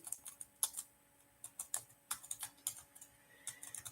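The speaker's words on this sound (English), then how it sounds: "just typing into the search" Quick, irregular clicks of typing on a computer keyboard, close and clear, in short bursts with brief pauses and no talking.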